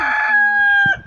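A single hen in a backyard coop lets out a short, loud, drawn-out cackle, close and alone.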